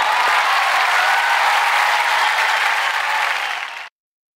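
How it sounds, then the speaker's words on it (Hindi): Loud, dense audience applause for comedian Raju Srivastava, a steady wash of clapping that holds for nearly four seconds and then cuts off abruptly into silence. "जोरदार तालियां राजू श्रीवास्तव के लिए, उनकी कॉमेडी के लिए।"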